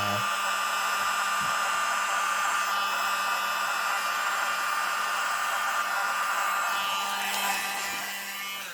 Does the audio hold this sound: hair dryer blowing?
yes